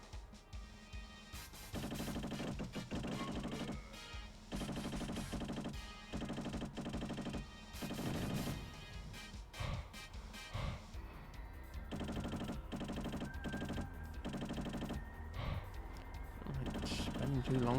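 Loud bursts of rapid machine-gun fire come in repeated rounds, with crates being shot up in the PS1 game Lone Soldier, alongside crunching impacts and game music, while someone talks over it.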